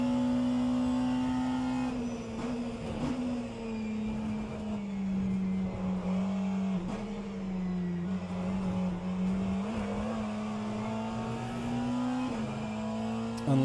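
A McLaren race car laps in rFactor 2 during a virtual endurance race: a steady, loud engine drone holds through the clip, its pitch dipping and rising with braking and acceleration through corners, alone without talk.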